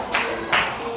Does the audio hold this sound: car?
no